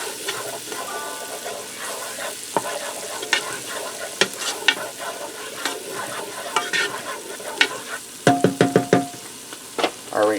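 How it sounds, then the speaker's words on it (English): Onions and garlic sauté in a pressure cooker, a steady sizzle with frequent clinks and scrapes of a stirring utensil, louder clatter near the end; no talking. "my onions are starting to soften up, I'm going to add in some garlic."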